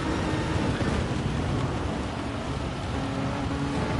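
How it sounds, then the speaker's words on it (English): Torrential rain pours down during a wet race at the Nordschleife in a racing video game, a loud, dense, unbroken roar of downpour with low rumbling beneath it. "Now, just one patch of just absolute torrential rain."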